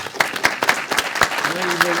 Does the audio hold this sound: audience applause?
yes